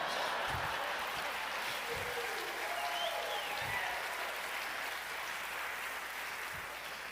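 An audience claps after a declaration made before royalty and a crowd, a continuous patter of applause that fades slightly toward the end, a few low thumps underneath.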